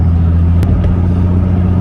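An Infiniti G37 engine with an exhaust leak hums steadily and loud on the road near the freeway at about 2,000 RPM, a constant low drone with a couple of brief ticks.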